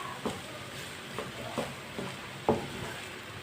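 Red chilli powder and turmeric stirred into a hot pan of spices, giving a soft continuous sizzle broken by a few scraping spoon strokes, moderately quiet and close, with no voices.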